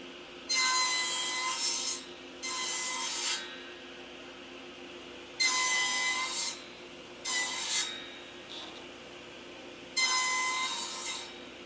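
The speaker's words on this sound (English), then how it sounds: "To cut these joints, I'm using the template feature of my quickset tenon jig" A handsaw guided by a quickset tenon jig cuts box joints in wood, five distinct rasping sawing bursts of a second or two each separated by short pauses, close and clear with no talking.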